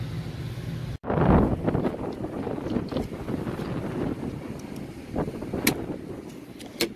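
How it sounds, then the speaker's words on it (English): Gusty wind blowing outdoors beside a rooftop package AC unit, roaring and buffeting the microphone with steady low rumble and swelling gusts throughout. "The wind's picking up out here, so I hope you can hear me well."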